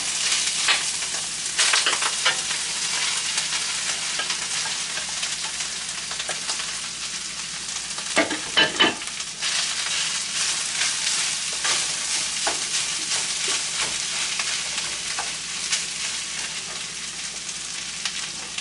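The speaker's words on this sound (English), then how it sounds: "I'm going to start putting the rice in. This oil is getting hot." Cooked rice fries in hot oil for shrimp fried rice, a continuous loud sizzle up close with scraping stirs and a brief clatter of the utensil against the pan midway. No one talks.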